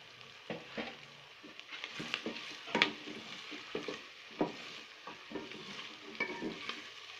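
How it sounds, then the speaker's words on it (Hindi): Onions browning in a pan give off a soft, faint sizzle, and irregular scraping and stirring sounds come from a utensil working against the pan. No one speaks. "ये प्याज मैंने रख दिया है, अब इसको ब्राउन करूंगी।"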